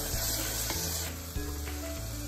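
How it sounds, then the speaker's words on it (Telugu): Ginger garlic paste frying in a pan, a steady close sizzle hissing without pause, with light scraping of stirring now and then. "ఇప్పుడు అల్లం వెల్లుల్లి పేస్ట్ ఒక స్పూన్ వేసుకోవాలి ఇది కొంచెం పచ్చి వాసన పోయే వరకు వేయించుకోవాలి"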